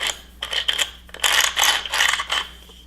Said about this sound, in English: Then you can tighten up the coarseness of the grinder.